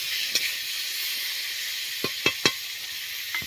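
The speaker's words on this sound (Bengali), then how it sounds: "তেজপাতা দিয়ে ভালো করে কষে নেব।" Onion and mustard paste masala with tomato, garam masala and bay leaf frying in a wok, giving a steady hiss with a few sharp spatters and scraping stirs.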